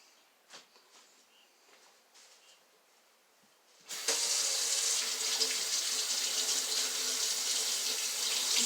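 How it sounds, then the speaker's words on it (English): Tap water runs steadily into a sink as hands are washed, starting abruptly after a quiet stretch with faint kitchen noises and continuing loud and even to the end. "When handling pork, you should always wash your hands well."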